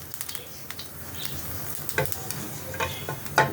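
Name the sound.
dried red chili, bay leaf and black cumin sizzling in oil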